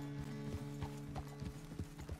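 Horse hooves clip-clop at a steady walk in Red Dead Redemption 2, an even rhythm of soft, close knocks over a constant low hum.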